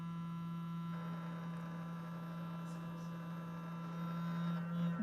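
A string vibrator driven by a sine wave generator gives off a steady, low electrical hum with faint overtones, continuous and even for the whole stretch, with no voices over it.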